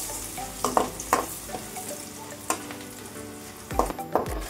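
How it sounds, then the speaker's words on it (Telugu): Turmeric and curry leaves hit hot oil for coconut pulihora, giving a steady close sizzle with sharp crackling pops and occasional stirring scrapes. "పసుపండి, కరివేపాకు వేస్తామండి."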